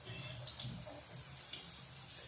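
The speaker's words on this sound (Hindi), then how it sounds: "इसी तरह हम इसको पहले 2 से अढ़ाई मिनट तक फ्राई होने देंगे" Potato wedges in batter frying in oil, a faint continuous hiss and bubbling that sounds much like running water, low and steady throughout.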